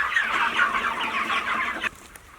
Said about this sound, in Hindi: अरे बाप रे बाप मुर्गा